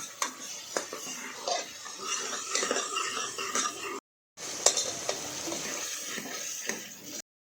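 Dal being stirred and mixed with spices in a pan for sambar, with soft scraping and clinking of a spoon against the metal, light sizzling underneath, and a short break partway through.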